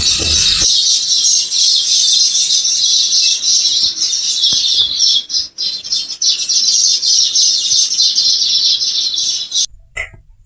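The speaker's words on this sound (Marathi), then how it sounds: "एकदम निसर्गरम्य वातावरण असल्यामुळे पक्ष्यांचा किलबिलाट खूप छान वाटतो" Birds chirp and tweet busily in the open air, high bright calls overlapping continuously with no voices.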